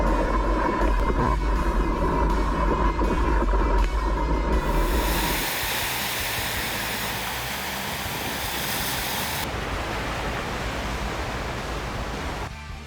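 Gentle ocean surf at Waiao beach in Yilan's Toucheng, rolling in as a steady broadband wash, louder with a rumbling low end at first, then a softer, even hiss of breaking water; no talk.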